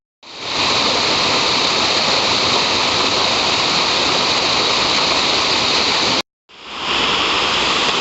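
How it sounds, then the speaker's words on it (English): The raging Flint Rock Creek, a trout stream, rushes loudly and steadily in a dense hiss of whitewater close by, broken by one brief cut before resuming. "And we're looking east on up the raging Flint Rock Creek."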